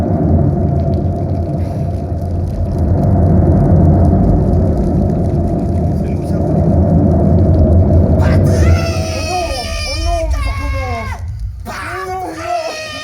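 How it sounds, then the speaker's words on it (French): Recorded rain with thunder is played back during a live sound-themed stage show: a steady, broad roar with low rumbling lasts about eight seconds, then gives way to excited voices and shouting. "Eh ben, Olivier, est-ce qu'on peut réécouter la pluie plus l'orage?"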